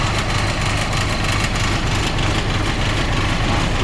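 A Fuso 8DC9 diesel engine running after a starter repair, a loud, close, steady rumbling idle with an even low throb throughout.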